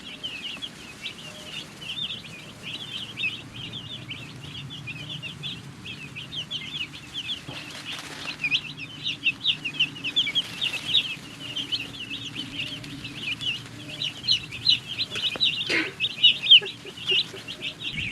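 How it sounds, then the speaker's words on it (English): A brooder full of baby chicks peeps constantly, shrill chirps overlapping nonstop at close range, with occasional rustling and wing flutters among them. "Mama of the ranch is in here warming up to the chicks, and they are really healthy and happy."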